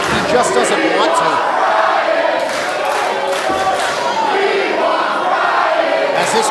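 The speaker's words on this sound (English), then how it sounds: "As this crowd saying they want Brian Anthony" At a Destiny 2022 wrestling show, an arena crowd chants and roars continuously, a loud unbroken wall of voices swelling and rising in waves.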